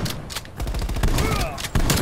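Gunfire in Call of Duty Black Ops Cold War on the Nuketown map: a burst of sharp shots and rapid bangs from a sniping match, loud and close, with brief game noise between.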